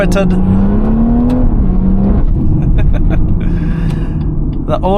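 A stage 2 tuned BMW M140i with an M Performance exhaust, custom downpipe and mid pipes, its engine droning and rising in pitch as it accelerates from inside the car, with someone talking over it throughout.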